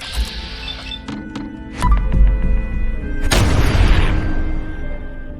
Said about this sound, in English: just need me to make some booms